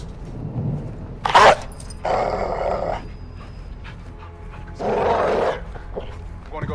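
A dog in the Modern Warfare 2 campaign growls and snarls in several rough, loud bursts over a low ambient game rumble.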